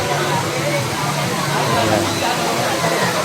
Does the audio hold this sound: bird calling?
no